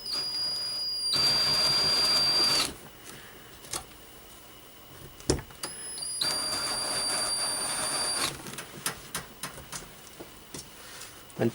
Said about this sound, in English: I'm going to countersink this hole just like this.